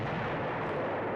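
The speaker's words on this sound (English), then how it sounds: "The stock explosions. Is that what we're hearing right now, JD?" Explosions in the video game Eternal Darkness: Sanity's Requiem rumble densely and continuously, a loud unbroken barrage like distant artillery with no voices over it.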